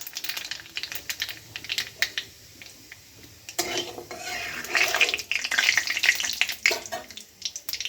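Nigella seeds crackle and sizzle as they hit hot mustard oil, a close, busy frying hiss with sharp popping ticks that swell louder midway through, no voices over it.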